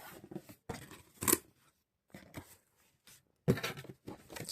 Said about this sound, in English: I grabbed my scissors to open it because there's some tape at the very top.